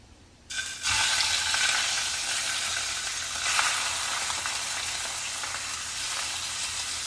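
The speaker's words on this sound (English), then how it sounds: "you hear that sizzle? It means your pan is hot enough." Chopped chicken for pesto chicken couscous hits a hot pan and sizzles loudly, a steady, dense frying hiss that starts abruptly after a quiet moment and holds close and even throughout, with no voices.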